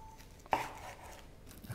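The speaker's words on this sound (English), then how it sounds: "Cut through the cling wrap" A knife slices once through cling wrap around a lamb roulade, a single sharp cut followed by a faint soft tearing, close and quiet.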